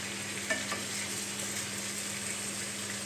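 Tajine pieces turned one by one in a hot pan, a steady close sizzle of frying with a faint clink of the utensil near the start, and no voices.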